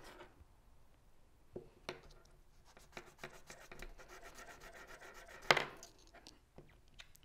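Quiet scraping and rasping strokes, irregular and close, as wire ends are rubbed on sandpaper, with a sharper scrape near the end.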